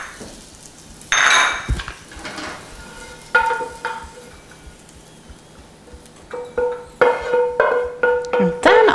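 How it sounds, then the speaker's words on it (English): Thinly sliced beef is tossed in oil in a pan, with a soft sizzle underneath and intermittent scraping, clattering utensil-and-pan bursts, close and fairly loud, no talking. "I'm just gonna give them a little toss here to coat them in the oil"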